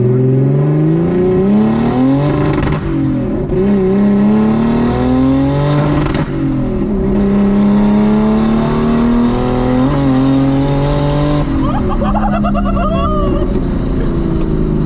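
A turbocharged BMW E36 320i pulls hard under acceleration, its engine note climbing and dropping through gear changes, loud and close from inside the car throughout.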